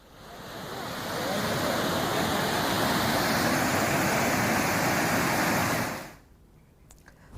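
A flooded river in Chhota Udepur, Gujarat, after heavy rain roars steadily as a broad, loud wash of noise for several seconds, then drops off abruptly to quieter ambience.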